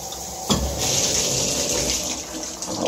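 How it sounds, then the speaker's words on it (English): Water gushes from a shower faucet in an apartment bathroom, turning on with a sudden splash and then running steadily and loudly, close by, with no talk. "Get water for the shower."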